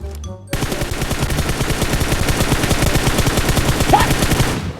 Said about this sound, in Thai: ได้ยินเสียงปืนพวกคุณได้ยินเสียงปืนไหมครับ